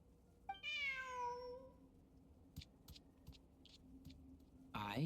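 A cat in the video game Genshin Impact gives one clear, drawn-out meow near the start, followed by quiet ambient game sounds and a brief voice at the end.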